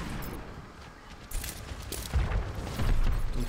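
Gunfire in the Xbox One game Overwatch during quickplay, a run of sharp shots and booms that grow louder toward the end, set against busy game noise with no clear talk.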